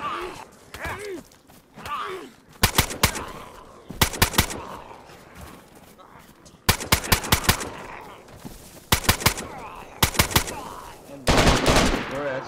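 Repeated automatic gunfire against zombies in DayZ on PS5, sharp rapid bursts of several shots each recurring through the clip, with groans and quieter movement between volleys and occasional voices.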